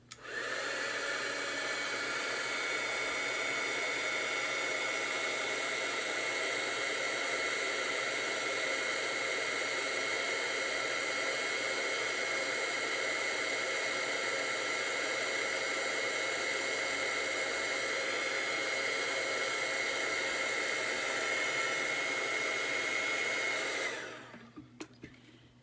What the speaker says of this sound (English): heat tool, pardon the noise.